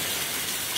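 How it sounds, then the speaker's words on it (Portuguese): Rain falls steadily outdoors in a brief, continuous hiss, fairly loud and even throughout with no voices. "E chuva aqui que cai direto."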